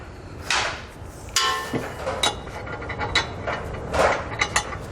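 A ratchet tightening flange nuts on bolts for a B and W Companion 5th wheel underbed hitch on a 2021 GMC Sierra, with several bursts of quick metallic clicking and clanks separated by short pauses, close up.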